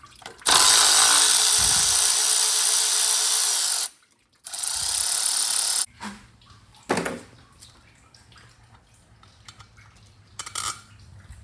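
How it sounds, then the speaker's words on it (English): A power tool, likely an impact driver, spins off water pump bolts on a 1986 IDI diesel engine in two loud sustained bursts, followed by metallic clinks and rattles of bolts and parts being handled. "So I'm gonna go ahead and pop all these bolts off and we should be good to go."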